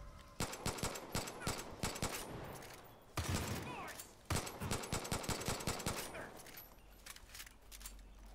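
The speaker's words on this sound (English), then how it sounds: "Who's shooting?" Gunfire rattles through a Far Cry 5 video game scene: many sharp, loud shots in rapid uneven volleys, a short pause, then another long flurry that thins out toward the end.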